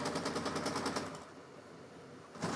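A fast 3D printer working through a speed benchy boat print gives a rapid, rattling buzz of stepper moves that pulses, then drops to a quieter hum before the rattle briefly returns.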